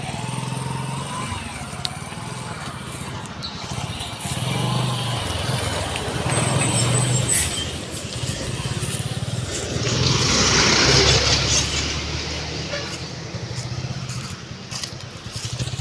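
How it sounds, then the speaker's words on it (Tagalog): A motor vehicle engine rumbles steadily, swelling louder as it draws near and passes on a road in Caramoan, Philippines, with faint outdoor background noise throughout. "May sasakyan."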